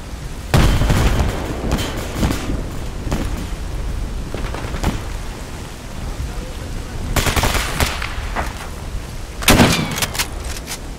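A grenade blast is followed by other loud booms and bursts of gunfire in the S.T.A.L.K.E.R. Anomaly first-person shooter, with sharp impacts over continuous battle noise.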